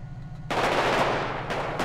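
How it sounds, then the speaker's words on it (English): Heavy automatic gunfire in a GTA roleplay game erupts abruptly after a quiet lead-in, a dense, loud burst of rapid shots that continues without pause to the end. "Heavy shot fire."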